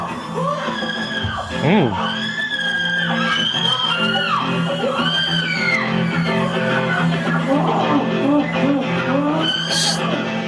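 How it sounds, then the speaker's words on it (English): Harsh, strained screaming plays back from a recording, with wavering yells and whoops rising and falling, while people talk and react over it. "I kind of like the horrible screaming versus the ambulance noises that was on the original."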